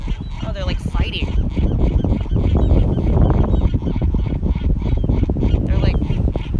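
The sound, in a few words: seagulls squawking and fighting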